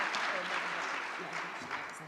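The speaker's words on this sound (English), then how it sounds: "let's give our panel a round of applause" Applause from a forum audience at a regional affordable housing event, a brief, fairly quiet patter of clapping heard from a distance in a room.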